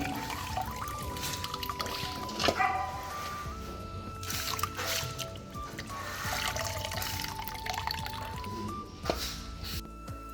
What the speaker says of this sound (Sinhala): ඊළඟට අපි මේක මේ වගේ ටිකක් තියලා තියෙනවා මේකේ වතුර ටික බේරෙන්න